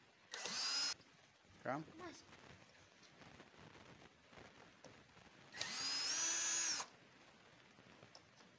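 A power drill drives a screw into an old wooden plank, whining loudly in two bursts of about a second each with a short buzz between them, while people talk nearby.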